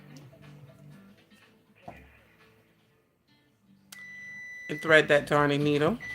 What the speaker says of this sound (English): Excuse the beeping, that's my oven timer.